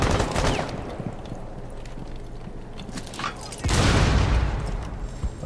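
A flashbang grenade goes off in Rainbow Six Siege with a sudden loud burst partway through, among scattered game gunfire and clatter, while a player's voice talks.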